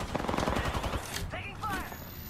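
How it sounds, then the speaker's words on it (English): Gunfire during a squad shootout in a video game, a rapid burst of automatic shots followed by scattered electronic effects, moderately loud and mixed with game sounds. "Getting shot at."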